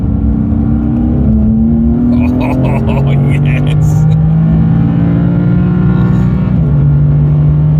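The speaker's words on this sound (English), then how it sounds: "The exhaust is nice. Exhaust and the intake, and it's genuine sound as well." Deep BMW M4 CS engine rumble with exhaust and intake roar, revving and climbing in pitch, close and loud, with a brief voice speaking over it.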